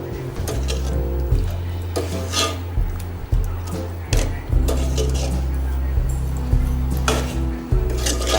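Metal utensil scrapes and knocks against a pot of chicken curry with added water in irregular stirring strokes over a low steady hum, close by.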